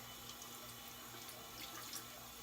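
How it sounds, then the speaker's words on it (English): Water runs steadily from a tap onto a frontal wig, a soft continuous splashing stream at close range with no talking. "I just put water in it"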